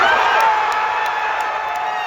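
A football stadium crowd cheers in a dense, continuous roar of many voices, loud and close, with a few higher shouts rising above the mass.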